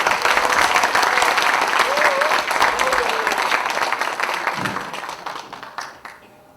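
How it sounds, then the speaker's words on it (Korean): Justice Party members at a 2019 party election rally in Incheon applaud a deputy leader candidate, loud sustained clapping from a crowd that gradually thins and fades out. "힘찬 박수 부탁드리겠습니다."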